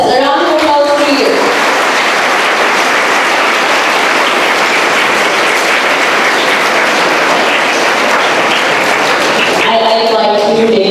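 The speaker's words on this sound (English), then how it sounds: "A round of applause for you." Students at a school aquatic meet and National Sports Day event applaud themselves in a loud, dense, continuous wash of clapping that lasts about nine seconds, with voices heard briefly at the start and end.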